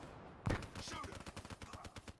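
Rapid bursts of gunfire in Call of Duty Black Ops III, a sharp opening shot followed by a quick rattling string of automatic rounds, fairly quiet in the mix with a voice briefly heard over them.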